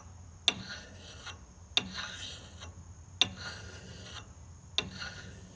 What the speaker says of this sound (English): And that is how you sharpen an axe.